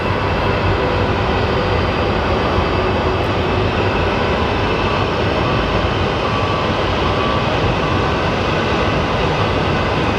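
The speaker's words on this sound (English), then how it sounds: "And then we will have American 2765 coming in from Chicago" An airliner arriving at Phoenix Sky Harbor Airport, a loud continuous broadband jet roar that holds steady and close throughout, with no talk.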